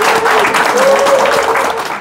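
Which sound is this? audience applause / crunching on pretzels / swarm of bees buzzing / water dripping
audience applause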